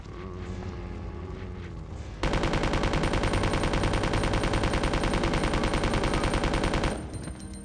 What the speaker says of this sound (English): Submachine gun, infinite ammo.